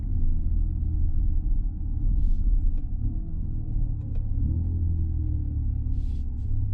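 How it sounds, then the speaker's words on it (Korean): A low drive hum from a Kia EV9 GT electric car with a few stepped, rising and falling synthetic engine-like tones, like simulated rev-matched gearshifts, with brief faint clicks during city driving. "레브 매칭 소리 잘 들리시죠?"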